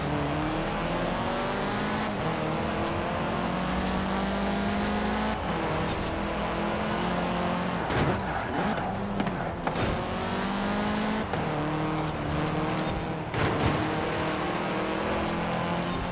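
Race cars in Forza Horizon 4 on a short course through a tunnel, engines roaring loud and continuous with pitch climbing and dropping through gear changes, plus occasional tire squeal and no voices.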